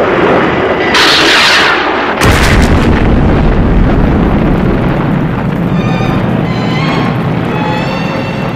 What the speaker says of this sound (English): And remember, use a live missile this time, Alan.